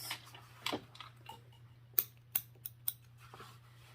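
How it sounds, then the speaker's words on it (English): Sewing scissors make several small snips in fabric near a zipper. The crisp clicks come in a quick irregular cluster, with a faint steady hum behind them. No one speaks. "And you can clip your zipper just a little bit."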